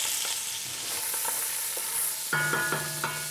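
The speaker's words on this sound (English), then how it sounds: "Let's put in all of the vegetables, the carrots, the celery," Carrots, celery and onions sauté in a pan for a pork rib guazzetto, a soft continuous sizzle with light stirring taps, then a brief ringing metallic clatter near the end, no voices.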